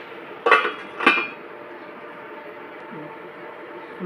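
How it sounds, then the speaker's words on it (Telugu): A lid is set on a metal cooking pot of gangavayili chutney: two quick metallic clanks sound about half a second apart, then a low steady background hum remains. "ఒకసారి మూత పెట్టు మూత పెట్టేద్దాం"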